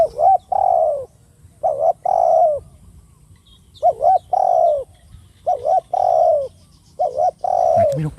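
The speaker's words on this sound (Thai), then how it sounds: "นี่นกปลาขันอยู่ไกลๆครับตอนนี้" A dove cooing in repeated rhythmic phrases of several notes each, close and clear, with short pauses between bursts and a quiet rural background.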